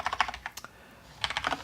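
Computer keyboard keys clatter in quick bursts of typing while someone writes throwaway debug code for saving and loading player data, a brief pause in the middle before another flurry, close and clear with no talking.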